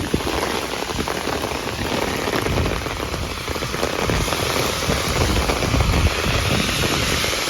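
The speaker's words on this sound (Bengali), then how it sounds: "এখানে এত জল বৃষ্টি শুরু হয়ে যাবে আমি ভাবতে পারিনি" Steady evening rain in New York falls hard and close, a dense continuous hiss of drops on surfaces with no pauses and no talking.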